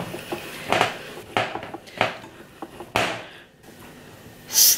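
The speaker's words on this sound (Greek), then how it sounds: "Ανακατεύω ώστε να μπορέσουν να ενσωματωθούν πολύ καλά τα υλικά μου." Raisin bread dough ingredients are mixed in a bowl, with repeated knocks, scrapes and clatters of the bowl and utensil at an uneven rhythm, close up, with a bright clink at the end.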